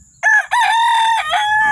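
A rooster crows loudly and close by, one long cock-a-doodle-doo that rises after a brief opening note and holds steady before trailing off, alone with no talk.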